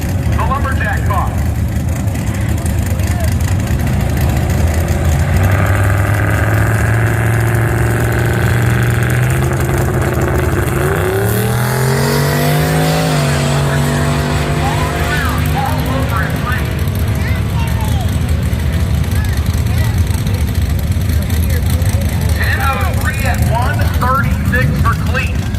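A Cleetus Lumberjack drag race car launches down Byron Dragway at Sick Week, its engine note sweeping upward loudly over a steady crowd and engine din, with a commentator talking throughout.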